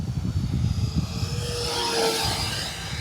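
Model T-33 jet with a 50mm ducted fan flies low over bushes and down the runway, its thin whine rising and falling as it passes, over a steady rushing background.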